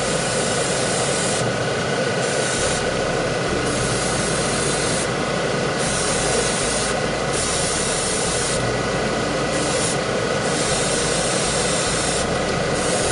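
A spray booth extractor fan runs steadily throughout while paint is sprayed onto an Ork Battle Wagon model, with a constant broadband hiss interrupted by several short bursts from the airbrush.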